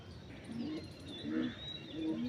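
Malayai breed pigeons give soft, low coos, with three short phrases repeating about every second over a faint background hum, and no voices.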